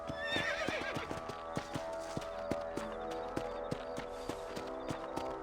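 Horse hooves clip-clop at a steady trot in the video game Red Dead Redemption, with a horse neighing near the start and a sharp game-world ambience behind, no talk over it.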